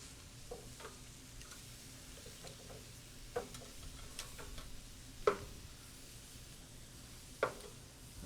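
Peruvian anticuchos skewers cook on a charcoal grill, a faint, steady sizzle broken by a few soft clicks and taps of skewers being handled.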